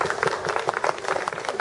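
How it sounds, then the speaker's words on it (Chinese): Children and parents at an outdoor family sketching event's prize draw applaud, a brief burst of uneven, moderately loud clapping with light crowd noise. "来鼓掌一下。"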